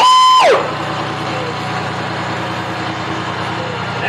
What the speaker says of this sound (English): That tractor is in memory of Margaret Clark